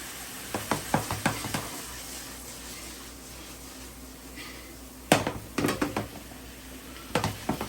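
Ackee and saltfish fry in a pan with a soft background sizzle. Sharp clacks and knocks of utensils against the pan come in short irregular bursts, with no talk.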